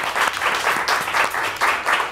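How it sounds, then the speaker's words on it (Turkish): A studio audience on a Turkish cooking and dining show applauds in repeated swelling bursts, loud and close, with the clapping rising and falling several times. "Şöyle şu yakışıklı beylere bir alkış rica ediyorum."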